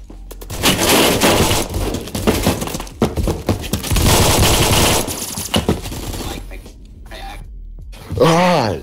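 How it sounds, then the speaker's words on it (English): Sustained MG36 machine gun spam fire in Phantom Forces, long rapid bursts broken by short pauses, loud and near, with a voice talking over it. "he's just fucking spamming with the fucking MG36"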